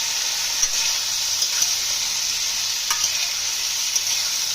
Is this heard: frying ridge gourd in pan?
yes